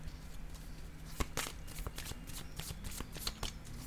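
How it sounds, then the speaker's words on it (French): Cards are shuffled by hand at close range, a quick run of soft riffling flutters and taps before one is drawn, with no talking. "je vais piger une autre carte"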